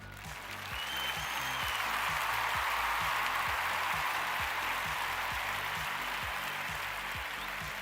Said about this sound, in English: Let's give you your round of applause because I know you want one.